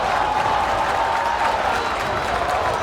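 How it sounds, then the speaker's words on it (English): Basketball crowd at a high school game between ABRHS and St John's Prep, a steady, loud wash of cheering and applause with a constant roar and no clear individual voices. "the crowd is loving it as the Colonials claw their way back into the game"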